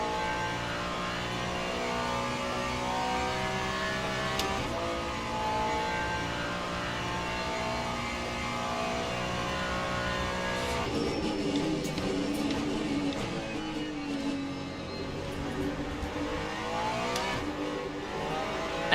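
Ferrari 296 race car engine at Interlagos in a Le Mans racing video game, a steady loud drone of revs rising and falling with gear changes, continuous and alone for the whole stretch.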